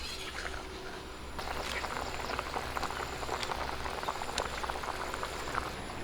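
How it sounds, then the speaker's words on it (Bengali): Fish curry broth with singi fish boiling in a pot, a steady close bubbling and popping with small liquid splashes that grows slightly busier after the first second, with no talking. "ঝোল ফুটে গেছে"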